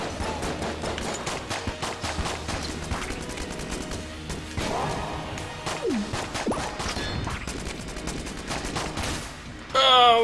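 Dense rapid gunfire and explosive crashes from a bullet hell video game, continuous and busy throughout, with a louder burst near the end.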